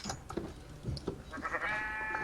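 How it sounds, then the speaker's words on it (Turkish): In the Minecraft video game, a sheep bleats amid scattered clicks and game noises, moderately quiet and close, followed by a steadier tonal sound toward the end, with no talk. "Koyun alıyorum."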